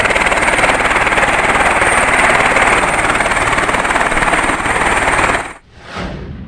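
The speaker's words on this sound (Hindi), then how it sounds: "हेलीकॉप्टर से श्रृंखला बनाकर भोजन लोगों के लिए पहुंचाया जा रहा है।" Helicopter flying during a flood rescue and food-supply operation in Uttarakhand, with a loud, close, continuous rotor roar and rapid chopping thuds that cut out abruptly near the end before a brief quieter tail.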